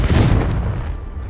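A heavy, booming blast from the Confringo blasting curse in Hogwarts Legacy hits loud and close, then rumbles and fades over about a second.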